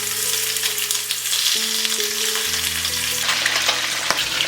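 Fish belly pieces fry in plenty of hot oil in a wok for a Hakka sour vegetable fish pot, giving a loud, steady crackling sizzle with no talking.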